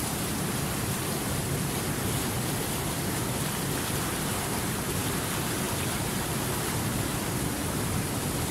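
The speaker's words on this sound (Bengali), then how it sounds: "ঝর্ণার শব্দ" A waterfall in a meditation soundscape gives a steady, dense rushing roar of falling water, constant and unbroken throughout, fairly loud and with no voices.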